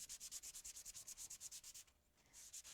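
Wood being hand-sanded with 320-grit sandpaper, a fast, steady rhythm of close scratchy strokes, about seven per second, breaking off briefly before resuming.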